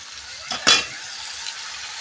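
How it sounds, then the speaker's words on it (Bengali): Fatty pieces of country chicken drop into hot oil in a pan, giving a short clattering splash and a burst of sizzle, then a steady, even frying hiss continues alone. "এবার আমি মাংসটা দিয়ে দেব মাংসটায় প্রচুর চর্বি"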